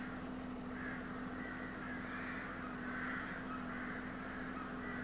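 Several crows caw repeatedly over a steady low hum in Farming Simulator 17 on Rathlin Island near a water hole, the calls moderately distant and rhythmic, with no talking.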